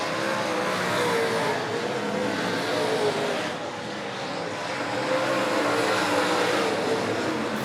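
USRA A Modified race cars roar around Monett Motor Speedway during a feature race, a continuous loud engine drone with passing swells under the background.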